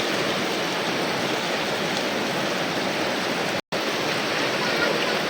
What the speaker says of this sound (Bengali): দেখছো নি এদিকে ছিদ্র দিয়ে জল পড়তেছে